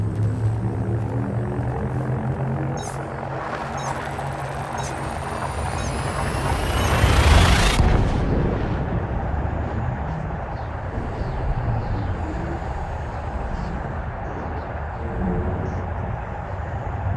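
Spaceship frame shift drive jump in the space game Elite Dangerous: a continuous loud roaring rumble that swells into a rising whoosh peaking around seven seconds, then drops back to a steady engine drone.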